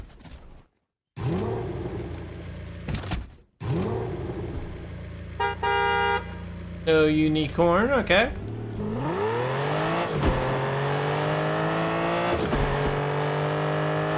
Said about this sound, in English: Here's the sound, by the way. Drive it around for a minute, and yeah, I'll shut up. Here's the start sound.